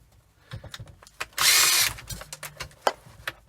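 A power screwdriver undoing screws on a control panel, giving one loud whirring burst of about half a second amid clicks and handling knocks.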